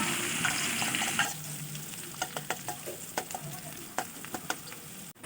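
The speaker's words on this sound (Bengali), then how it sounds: "দিয়ে দিব পেঁয়াজ কুচি একসঙ্গে দিয়ে ভালোভাবে নেড়ে চেড়ে" Chopped onion being stirred and fried in a pan for Chittagong-style fuluri, a loud sizzle at first that settles into quieter frying broken by a string of sharp spatula clacks and scrapes, close up with no talk.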